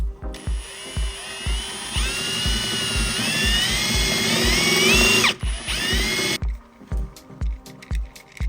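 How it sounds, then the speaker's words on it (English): Power drill boring screw holes in parts for a Boeing 737 simulator throttle build: a steady whining drill run for several seconds, with regular clicking, ratchet-like taps before and after it, close and loud, with no talk. "I marked the screw hole locations and drill the holes."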